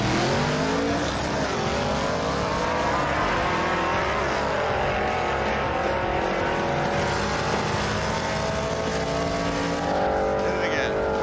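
A 1971 Chevy Suburban launching hard at a drag race, its engine roaring loud and close with rising revs and tire spin throughout.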